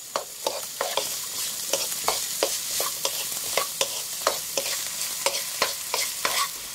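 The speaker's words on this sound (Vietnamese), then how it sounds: "Xào chín nha các bạn" Chinese sausage, sausages and carrot are stir-fried in a pan, a steady sizzle under regular scraping strokes of a spatula, roughly two per second, close and clear.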